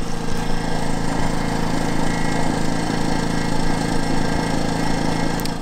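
A CAT INV2000 inverter generator runs with eco throttle on, giving a steady, loud mid-pitched engine drone with constant tone, close by and uninterrupted.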